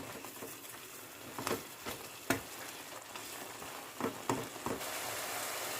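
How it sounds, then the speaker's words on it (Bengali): Tomato and spices being fried down in a pan for a spring onion dish, giving a faint, soft patter of sizzling with occasional light clicks and scrapes of stirring, no voices. "ভালো করে একবার নেড়ে দিয়ে টমেটোটাকেও এবার ভালো করে কষে নিতে হবে"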